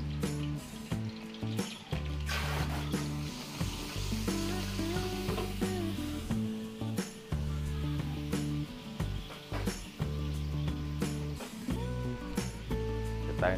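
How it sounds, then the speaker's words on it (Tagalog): Atsuete powder sautéing in a pan for gotong Batangas, with a continuous close sizzle broken by repeated clanks and scrapes of a utensil stirring against the pan. "Magigisa tayo ng konti para masarap."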